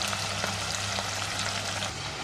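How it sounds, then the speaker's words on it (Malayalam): Sliced onions with salt fry in hot oil for a bitter gourd fry, producing a steady, even sizzle with scattered crackles, close and moderately loud, without talk. "അത് നല്ല ചൂടായ എണ്ണയിലോട്ട് ഇട്ട് കൊടുക്കാം."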